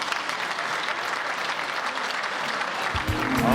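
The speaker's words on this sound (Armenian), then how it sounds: "ձեր ծափահարությունները" Applause from wedding guests at an Armenian celebration, a dense continuous patter of many hands clapping that grows slightly louder toward the end, where a low musical or amplified tone creeps in.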